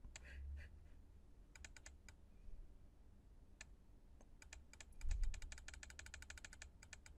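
Keystrokes on a computer keyboard come in scattered short bursts of crisp clicks, sparse at first and then a denser run of rapid taps, over a quiet room with no talk.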